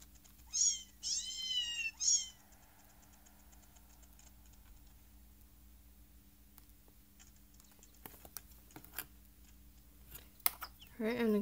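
A small cat in a Nintendo 3DS game gives three short high meows close together, then quiet clicks and ticks follow before another brief meow at the end.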